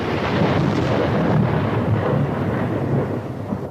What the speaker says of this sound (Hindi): तभी बिजली कड़की।